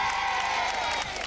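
A TV studio audience at a 1991 game show cheers and applauds in a dense, continuous roar of clapping and voices that holds loud and steady for the whole moment.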